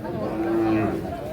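A Holstein Friesian dairy cow at a farm gives a single drawn-out moo of about a second, moderately close, with people chatting in the background.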